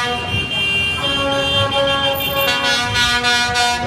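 Trucks in a town-centre parade in St Albans sound loud, overlapping horn blasts, sustained tones stacked together and blaring continuously, close by, with a fresh burst entering partway through.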